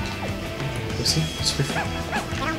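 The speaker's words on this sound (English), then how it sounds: "He's barking because he's lost." Poochy, the cartoon dog in Yoshi's Woolly World co-op play, gives a few short yipping barks in quick bursts amid game music and effects, while players talk over it.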